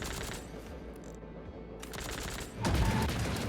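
Gunfire in the video game Fogpiercer, a sustained dense volley of rapid shots that surges louder in the final second.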